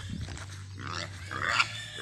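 Pigs grunting at a farm, steady low grunts running through the clip at moderate level, with a busier, higher-pitched squeal or oink near the end.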